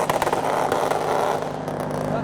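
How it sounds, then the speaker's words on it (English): A Mitsubishi Evo starts up at a car show, its engine catching and settling into a loud, throaty rumble nearby, with people talking over it. "The Evo has just started up."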